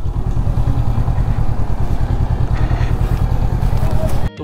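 A Honda 500X adventure tourer motorcycle engine runs close up with a loud, steady throbbing rumble and some mechanical clatter, holding an even note throughout before cutting off abruptly at the very end.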